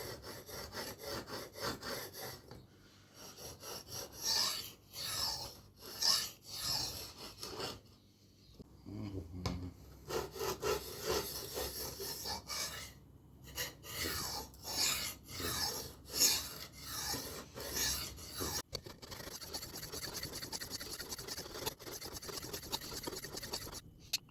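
A knife blade is sharpened on a whetstone with an angle holder, giving repeated rhythmic scraping strokes in bursts with short pauses, close and clear with no talk.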